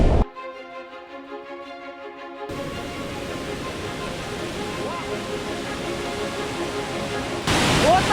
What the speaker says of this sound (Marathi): हा तामिनी घाटातला पहिला धबधबा